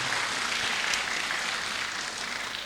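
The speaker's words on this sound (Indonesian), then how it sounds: "Tepuk tangan yang meriah" An audience at a school technology seminar launch gives a hearty round of applause, a soft, hissing wash of distant clapping that stays even and fairly faint throughout.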